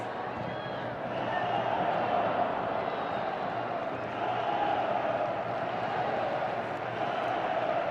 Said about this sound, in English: Big cheer goes up as RB Leipzig can push forward.